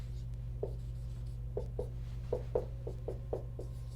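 Hand drawing of a diagram, likely pen or marker strokes on paper or a board, heard as a series of short scratchy strokes over a steady low hum, fairly close and moderately quiet.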